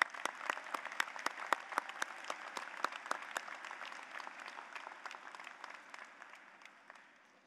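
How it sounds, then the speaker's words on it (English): Faint, distant applause at a college commencement ceremony, with scattered individual claps that rise over a soft hall wash, then gradually thin out and fade. "give them a round of applause"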